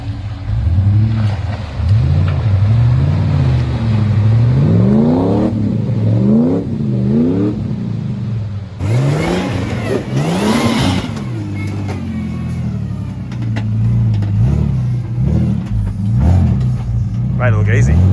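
An LS1 V8-powered Nissan GU Patrol on 35-inch tyres revs hard through a muddy bog hole, the engine climbing and falling in repeated loud surges, with voices over the noise.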